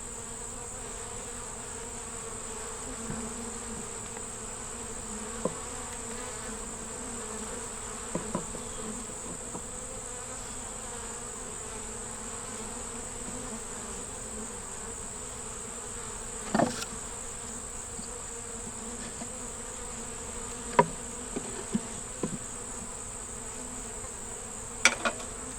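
Honey bees at an open hive with a laying queen give a steady, thin drone throughout, with occasional faint clicks and knocks near the frames. No one speaks.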